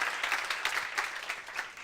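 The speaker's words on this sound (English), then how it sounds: "Let's give a round of applause to Codemotion and these amazing people." Steady applause from a conference audience at Codemotion Rome 2019, dense clapping that holds at an even level with slight swells throughout.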